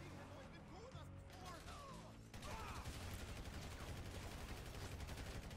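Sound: gunfire in video game Grand Theft Auto V

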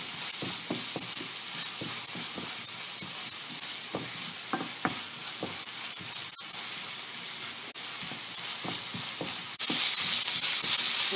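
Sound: tomatoes frying in a pan for fish poriyal

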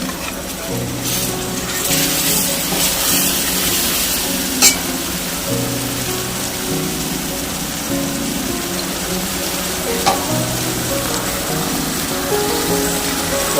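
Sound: frying onion with masala paste in a pan

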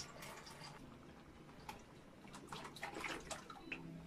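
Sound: milk being poured into pot for arroz de leche

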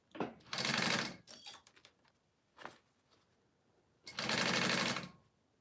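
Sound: sewing machine basting fabric

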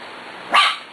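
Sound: dog barking

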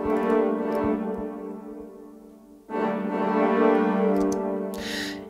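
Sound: cinematic brass section samples doubling the choir

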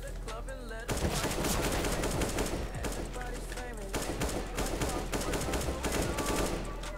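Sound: gunfire from video game Counter-Strike: Global Offensive

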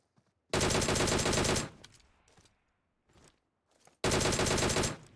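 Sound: gunfire shooting a bot in a video game

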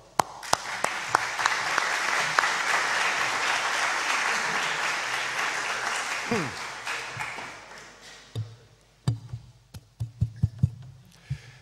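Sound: applause

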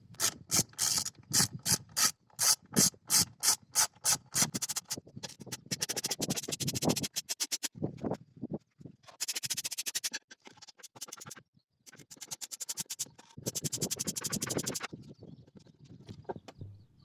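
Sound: unscrewing Torx T30 bolts of Mercedes engine cover

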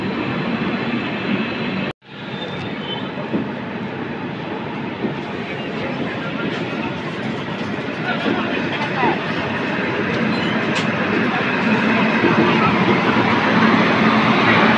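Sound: express train running at speed

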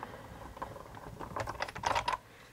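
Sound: running a card through a die cutting machine

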